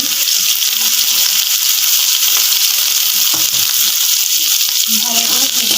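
Chopped vegetables for pasta, among them green chilli, grated carrot, potato and beans, fry in a pan with a loud, dense, continuous sizzle, faint voices murmuring underneath.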